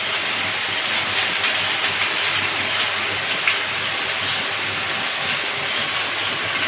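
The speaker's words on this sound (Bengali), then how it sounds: "বৃষ্টি আসছে, শুধু বারবার বৃষ্টি আসছে।" Steady rain pours down outdoors, a broad continuous hiss with constant loudness and no pauses, close and enveloping, with no voices.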